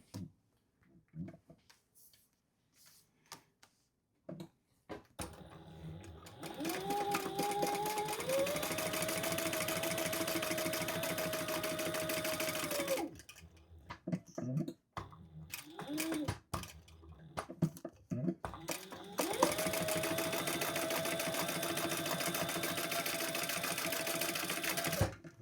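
A sewing machine stitches a crossbody bag in two long runs of rapid, steady whirring, separated by pauses filled with handling clicks and rustles of fabric, close and clear.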